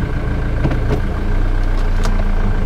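A Jaguar X-Type with a 2.2 litre turbo diesel idles with a steady low rumble as it creeps forward, the engine note thickening slightly partway through, close and continuous with no talk.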